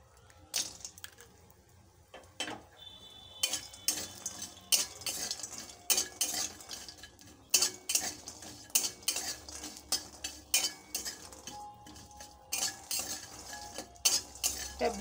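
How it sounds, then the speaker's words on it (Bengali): Lentil dumplings (bori) frying in hot mustard oil for a raw banana curry, with a steady faint sizzle under repeated sharp clinks and scrapes of a utensil against the pan, fairly close and busy throughout. "গরম তেলে সেই মুসুর ডালের বড়িটা দিয়ে দিচ্ছি।"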